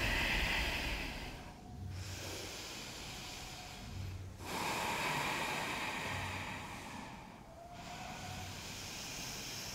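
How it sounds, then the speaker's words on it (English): Slow, deep yoga breathing, each long inhale and exhale forming a broad airy hiss with brief quiet pauses between, close and steady with no talk. "And breathing."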